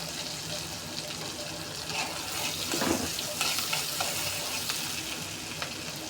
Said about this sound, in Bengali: পেঁয়াজ কুচি দিয়ে দিব একটু